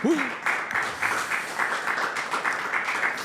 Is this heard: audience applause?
yes